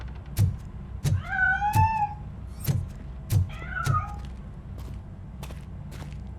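In Robocop: Rogue City, a cat hiding inside a piano lets out two clear, rising-and-falling meows, close and distinct, over a low steady background hum with regular dull thumps.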